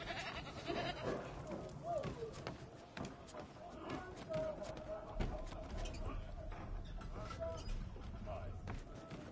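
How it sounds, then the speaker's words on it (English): Farm animals aboard a ship in Assassin's Creed III: bleating goats and sheep among pigs, with scattered animal calls over a busy, muffled game background of thumps and movement. "Oh, look, you got some sheep and some pigs, some goats."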